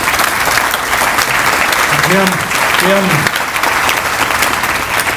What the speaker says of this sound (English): maybe let's hold our applause till the end